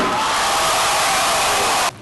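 A packed crowd roaring at a football pep rally in Sartain Hall, a loud, dense, sustained wall of cheering and yelling that drops off abruptly at the end.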